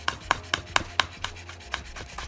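A knife chops garlic on a cutting board while preparing keema naan filling: about nine crisp, evenly spaced strikes, close and fairly loud, with no talking.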